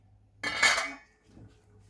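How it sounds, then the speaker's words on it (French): Sugar is poured into a sieve held over butter while making shortbread cookies: one brief, bright metallic rattle, close and loud, followed by a fainter soft shuffle. "je dois verser le sucre dans le tamis et le mettre sur le beurre"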